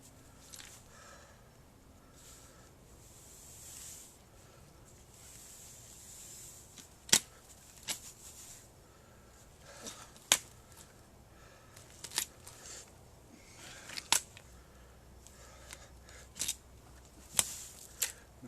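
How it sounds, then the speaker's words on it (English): Loppers cut through the roots of a large podocarpus being root-pruned for bonsai. About eight sharp snips and cracks come at uneven intervals over quiet outdoor background rustling. "So now I'm going to take my loppers"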